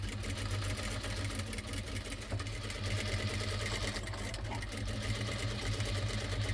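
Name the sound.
sewing machine stitching churidar neck lining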